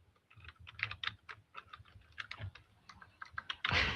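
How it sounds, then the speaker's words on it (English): Rapid, uneven clatter of fingers typing on a computer keyboard, close and fairly quiet, with bursts of keystrokes and a short louder flurry at the end; no one speaks. "You can hear me typing, I think,"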